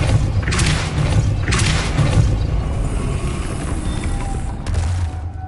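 Spell impacts from the Depulso force-push in Hogwarts Legacy, heard as a few loud, heavy thuds and booms over a dense rumbling game soundscape with a rhythmic low pulse.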